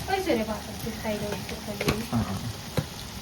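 Biryani masala scrapes and sizzles as it is stirred and mixed in a pan, with uneven clinks and rustles, and someone talking intermittently over the cooking.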